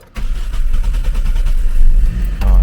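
Car engine with a brake booster vacuum leak cranks and restarts after stalling, then runs with a steady low rumble close by, no talking.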